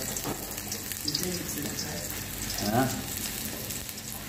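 Ginger frying in hot cooking oil in a pan, a steady sizzle running throughout at moderate loudness, with a brief rise in crackling partway through, for a Nepalese-style fried noodle dish with cabbage and egg.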